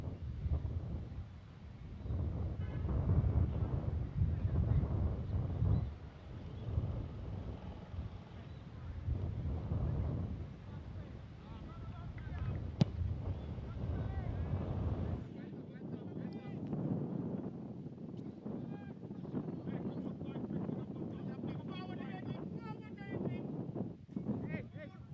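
Steady wind rushes and buffets the microphone throughout at an under-17 football match, with a commentator's voice talking over it.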